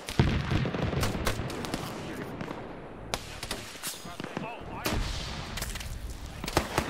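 Rapid gunfire from a team-based shooter video game crackles in bursts and single shots, mixed with scattered impacts and brief quiet gaps.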